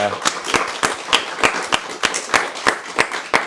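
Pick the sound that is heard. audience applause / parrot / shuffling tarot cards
audience applause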